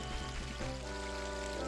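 River water at Zora River in the game Zelda: Ocarina of Time flows in a steady pouring rush, constant and fairly faint, with a low game tone humming beneath.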